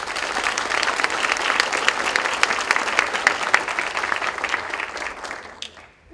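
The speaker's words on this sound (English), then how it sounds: "Please give Mandy a warm welcome." An audience at a Lyme disease conference gives steady, dense applause that fills the room for several seconds before tapering off.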